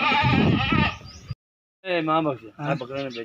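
Goats bleat loudly and close by at a small farm: one long wavering call, a short silence, then two more quavering bleats, with people talking around them.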